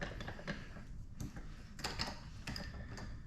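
A 90-degree metal fitting for a custom turbo kit is threaded by hand, giving faint, irregular ticks and light metallic scrapes in a quiet workshop.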